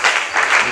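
A church congregation at a Bible seminar in Matadi bursts into brief, loud applause acclaiming the Lord, a dense wash of clapping hands lasting under a second.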